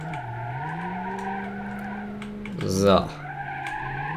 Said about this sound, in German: Driften im Dually